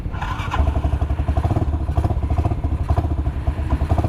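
A motorcycle engine idles steadily in neutral, its rhythmic low chugging loud and close, with faint clattering over the top.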